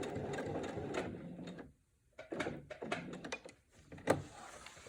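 A sewing machine backstitches along quilt binding near a corner, with bursts of rapid mechanical whirring, a short pause of silence, then several quick stop-start runs and clicks up close.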